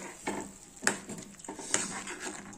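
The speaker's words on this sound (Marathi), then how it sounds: "याला मी चांगलं मिक्स केलंय।" A spoon stirs chickpea curry in a pot after salt and coriander go in, making a few quiet, intermittent scrapes and soft clinks against the pot.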